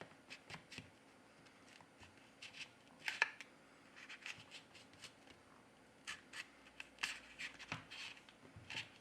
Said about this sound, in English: Use a ultra-thin plastic card to soften the adhesive.